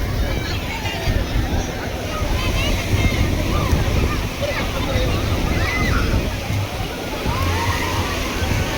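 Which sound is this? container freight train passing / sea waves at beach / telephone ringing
sea waves at beach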